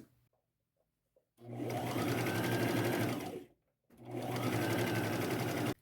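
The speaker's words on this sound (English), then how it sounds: "make a little hem. And I'm putting the right sides together" A sewing machine runs in two steady, close bursts, separated by a brief pause, stitching a small hem on a thrifted dress with right sides together and purplish thread.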